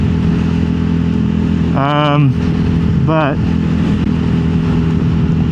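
A vehicle engine drones steadily, with two brief rising whines of cars passing close by, and a single word spoken partway through.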